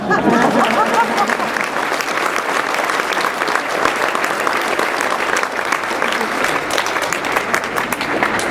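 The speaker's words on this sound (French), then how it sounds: "je pense que cela mérite des applaudissements" An audience at a tennis club inauguration applauds an Olympic tennis player, a full, sustained wash of many hands clapping evenly for several seconds, no voices over it.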